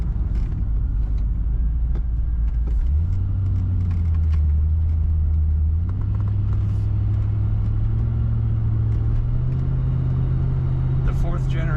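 A 1990 Chevrolet Corvette coupe, a fourth-generation model with fuel injection, drives along with a steady low engine drone that shifts upward in pitch through gear changes, heard under someone talking.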